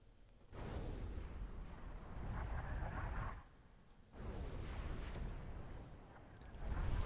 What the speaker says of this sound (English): DJ is shelling Ixin.